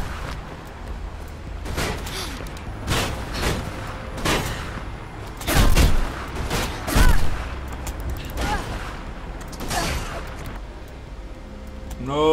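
Gunfire in the video game Mirror's Edge: a series of separate shots and booms spaced a second or so apart, a few louder, heavier blasts in the middle, with a voice heard now and then between them.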